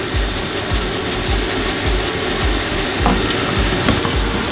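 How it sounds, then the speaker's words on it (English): Dried shrimp sizzle steadily in hot oil in a pan while being stirred, with rhythmic scraping strokes repeating about twice a second under a constant frying hiss. "Let the dried shrimp soak up all the oil and fry just a little bit"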